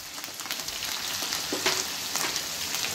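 Ground spices sizzling in hot oil in a pan while being stirred for an eggplant and potato bhaji: a steady, close crackling hiss with faint scraping, no talking.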